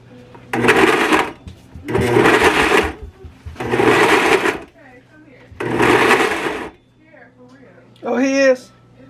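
Several short bursts of a food processor pulsing loudly, each lasting about a second with pauses between, followed by a brief high-pitched voice.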